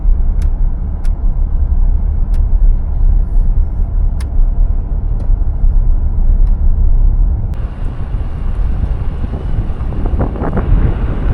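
A car driving on roads in Canyonlands National Park, Utah, heard from inside as a loud, steady low rumble with heavy wind buffeting, the road noise shifting slightly partway through.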